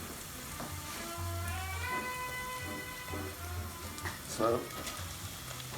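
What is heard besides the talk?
bacon sizzling as it is added to the sautéing onions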